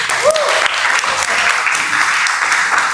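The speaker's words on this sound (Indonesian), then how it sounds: "beri tepuk tangan dulu." A classroom group gives a burst of loud, steady applause during a teacher training session, dense clapping filling the whole moment with a few voices mixed in.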